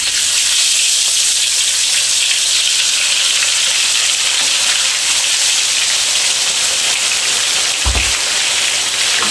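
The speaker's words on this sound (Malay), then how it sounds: "Okey, ini kita mula nak menggoreng." Fish coated with turmeric and salt fries in hot oil, giving a loud, steady sizzle and crackle that runs continuously, with one brief low bump partway through.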